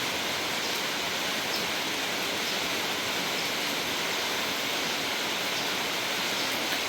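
Heavy rain pours steadily through the night outside a house, its driveway close to flooding; a dense, even wash of noise with no pauses, fairly distant and with no voices.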